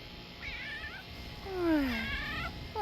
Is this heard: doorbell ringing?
no